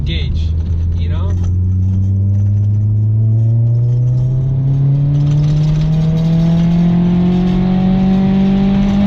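A Honda S2000 engine revs up steadily in a rising whine as the driver shifts without the clutch, loud and close inside the car with a rattling hardtop, while a voice talks over it.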